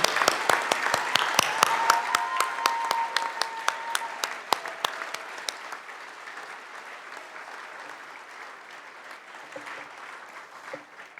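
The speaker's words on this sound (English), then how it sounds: "all of you rise, and this applause is for you." Loud applause from a large gala audience, dense clapping that gradually fades and thins out toward the end.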